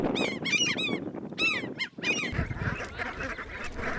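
Pacific black brant geese honk repeatedly on a tundra delta in spring, a close flock giving bursts of harsh calls, then a denser, more distant chorus of many birds.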